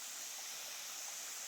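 The Andamanik waterfall on the Boalia trail near Mirsharai flows as a constant, faint hiss of rushing water, even and unbroken throughout.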